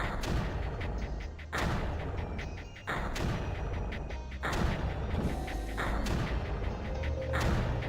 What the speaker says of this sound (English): I was just checking the relative volume thing down there to make sure those mortar shots weren't too loud